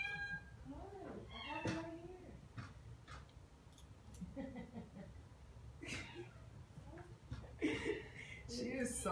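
A house cat meows repeatedly in short, vocal bursts scattered through the clip, close by, alongside people talking and light household noise.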